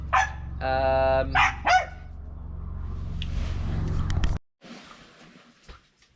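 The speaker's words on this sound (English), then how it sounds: "my dog was barking" A dog barks nearby in several sharp, loud yips and woofs, then the barking gives way to rustling and background noise.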